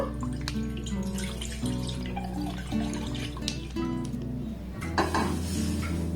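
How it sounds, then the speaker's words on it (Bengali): Milk pours into a saucepan in a steady liquid stream, heard close over a sustained tonal background. "দুধটাকে এর মধ্যে আমি ঢেলে নেব"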